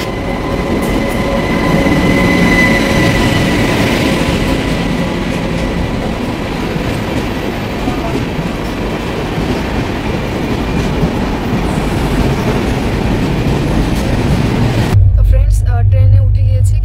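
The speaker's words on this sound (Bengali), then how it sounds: "ট্রেনে উঠে গিয়েছি, কিছুক্ষণ আগেই উঠেছি, এখন এই যে বসে আছি।" A Rajdhani express train heard from inside a carriage: a loud, continuous rumble with rhythmic clickety-clack of wheels on the rails. Near the end the sound cuts abruptly to a different, bass-heavy noise.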